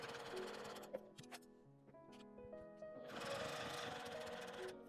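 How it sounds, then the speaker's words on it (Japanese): A sewing machine stitches a clear vinyl pouch in short runs of steady mechanical whirring, broken by brief pauses and clicks, then a louder continuous run near the end. No one speaks. "手回しでミシンを送っても良いです。"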